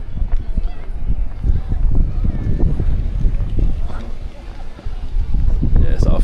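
Wind gusting through the old town of Sibiu, Romania, a steady low rumble and buffeting against the microphone, with someone talking over it throughout.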